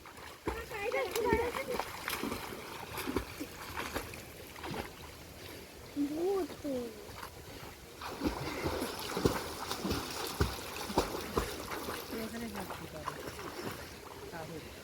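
Intermittent splashes and sloshing water close by, with children chattering and calling out between the splashes as they bathe in a village.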